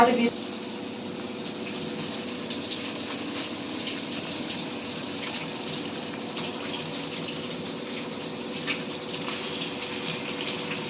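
Fish with curry leaves frying in a pan, a steady even sizzle of hot oil that holds throughout, with a voice talking over it.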